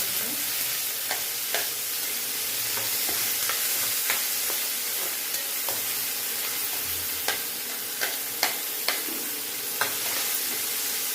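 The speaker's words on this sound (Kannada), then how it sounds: "ಎಣ್ಣೆ ಕಾದಿದೆ. ಸಾಸಿವೆ ಹಾಕ್ತೀನಿ, ಜೀರಿಗೆ ಹಾಕ್ತೀನಿ, ಈರುಳ್ಳಿ ಹಾಕ್ತೀನಿ" Oil sizzles steadily in a pan with sharp crackles and pops scattered throughout as mustard seeds, cumin and onion fry, loud and close.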